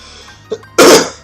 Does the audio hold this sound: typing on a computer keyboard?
no